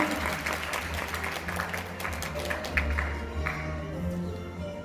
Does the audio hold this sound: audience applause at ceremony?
yes